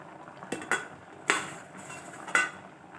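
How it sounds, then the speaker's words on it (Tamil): A spoon stirs jaggery into sweet pongal in a metal pot, giving several sharp scraping clinks against the vessel, spaced irregularly over a soft steady background, close and clear with no talking. "நல்லா கிளறி கொடுத்துக்கலாம்."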